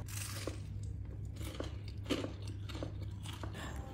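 Several crisp crunching bites and chewing on a crunchy vegetable fritter made with dried shrimp, close to the microphone over a low steady background hum.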